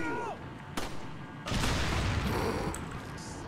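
Gunfire from the Resident Evil 4 video game, with a sharp shot and a louder blast that starts a sustained rumbling boom, plus some talk over the top.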